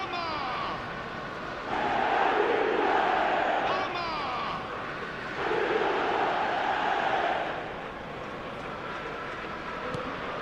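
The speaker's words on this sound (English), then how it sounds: "the crowd level has gone up a notch or 10" Stadium crowd roaring and cheering in an eFootball 2026 match after Arsenal score, two loud swelling waves of dense cheering with a quieter lull between, fading toward the end.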